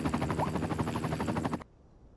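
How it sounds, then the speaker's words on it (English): A medical helicopter flies in the city-building game Cities Skylines II, its rotor throbbing in fast rhythmic thumps at a steady moderate level for under two seconds before cutting off abruptly. "The medical choppers."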